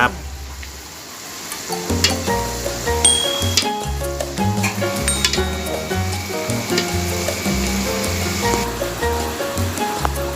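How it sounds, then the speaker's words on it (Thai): Chinese cabbage and homemade crispy pork stir-fry in a hot pan, with loud, busy clanking and scraping of a utensil against metal over a constant sizzle, continuous from start to finish, no talk. "ผัดผักกาดดอกใส่หมูกรอบหมูกรอบทำเองนะครับ"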